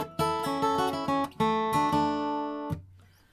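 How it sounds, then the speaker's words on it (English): An acoustic guitar plays the opening melody phrase of a song, a few plucked double-stop notes with a slide, played solo and close, ending on a sustained low note. "Okay, so the first phrase we're going to learn of the melody sounds like this."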